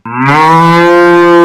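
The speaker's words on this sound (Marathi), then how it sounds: "गायी ती जेव्हा ओरडते तेव्हा त्याला आपण काय म्हणतो हंबरणे" A cow moos in one long, loud, steady low call that starts abruptly and holds its pitch, with no voices around it.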